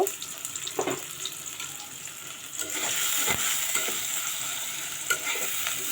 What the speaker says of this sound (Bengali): তারপর আমরা দিয়ে নিচ্ছি ডালচিনি এলাচ এগুলো দিয়ে নিব